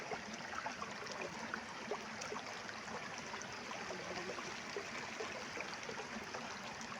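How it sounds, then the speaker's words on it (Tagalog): A clear, shallow stream in a flooded rural garden flows steadily throughout, a continuous soft rushing and trickling wash of water with no speech over it. "Ang linaw na ng sapa guys."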